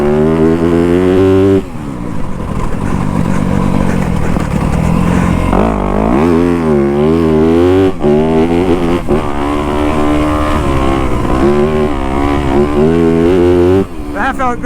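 A 2025 Yamaha YZ250F dirt bike roars close up throughout, its engine rising and falling through repeated throttle blips and gear changes while sliding and drifting on a ride.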